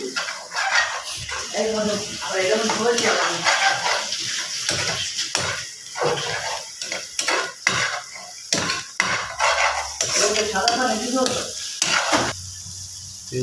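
Noodles frying in hot oil in a pan and being stirred, with steady loud sizzling and scraping of the utensil, while people talk and a dog barks in the background.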